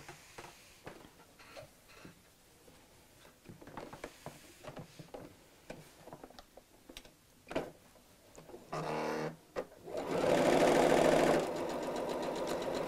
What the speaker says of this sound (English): I'm going to sew all the way around with around about a 1/4 inch seam allowance